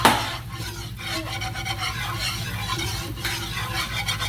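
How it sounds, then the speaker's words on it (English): Flour is whisked into melting butter in a pan for pie filling, producing a close continuous scraping and rasping whisk sound over a gentle sizzle. "You want to whisk it while it's melting in the butter"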